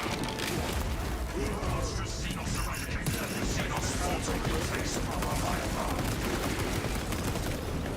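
Turrets in Space Marine 2 fire dense, continuous bursts of gunfire that blend into a busy, noisy game battle.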